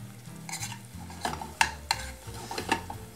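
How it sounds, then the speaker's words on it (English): Garlic frying gently in olive oil in a pan, a low sizzle broken by sharp scraping and clinking stirring strokes against the pan, close and without speech. "So now all of our garlic is frying."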